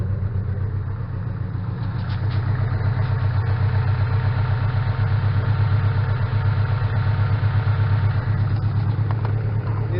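Up close, the engine of a Toyota 86 settles into a steady, even idle with a low, pulsing rumble that holds without revving for the whole stretch.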